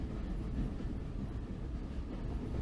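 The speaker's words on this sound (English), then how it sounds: "The steady ticking of the train on its tracks fills the silence" Steady rumbling of a train running along its tracks, a continuous low, even roar with faint regular wheel ticks, heard alone with no voices.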